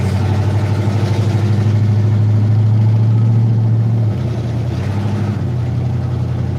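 A car engine idling with a low steady hum and a suspected vapor lock fault, the drone dropping slightly in pitch partway through while running on, close and alone.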